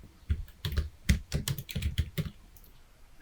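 Close keyboard typing as a style name is entered on a computer, a quick irregular run of clacking keystrokes with short pauses, steady and alone with no talking.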